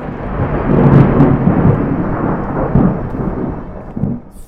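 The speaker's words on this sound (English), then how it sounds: "Thunderstorms scare me, apparently." Loud rolling thunder in a horror video game, a deep rumble building and swelling with faint rain, then fading near the end, with no voices.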